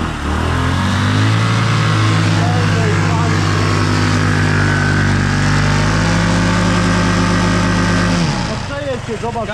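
Adly 100 cc scooter engine revving hard, a loud sustained buzzing drone that holds high then drops sharply near the end, with people talking nearby.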